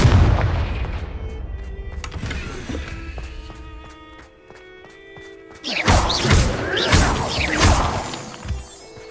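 In the video game Hogwarts Legacy, a Confringo fire spell blasts with heavy booms and a shattering crash. A rumbling impact opens, a ringing, fading lull follows, then a second burst of loud crackling explosions.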